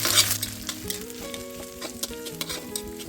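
Chopped onion hisses and crackles as it sautés in hot oil with curry leaves in a home kitchen pan, a close, continuous sizzle with stirring and soft background music.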